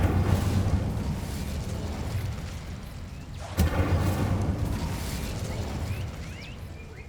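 Incendio fire spell cast in Hogwarts Legacy: a steady roaring rush of flame that swells into a sharp burst midway, then keeps churning loudly to the end.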